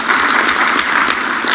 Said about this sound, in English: Once again, a round of applause as we move on.